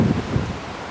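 Wind gusts on open ground near a beach, buffeting the microphone as a dense, roaring rumble through a brief moment.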